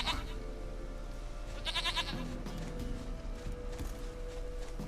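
A goat in The Witcher 3 gives a short nasal bleat midway through, with a softer follow-up bleat, over low background game ambience.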